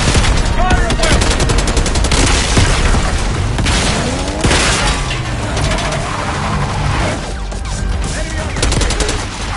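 Dense gunfire during an assault on a palace gate in the Call of Duty: Black Ops 6 campaign, with loud overlapping automatic bursts, cracks and booms running throughout and no clear voices.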